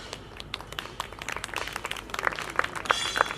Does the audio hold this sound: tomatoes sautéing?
no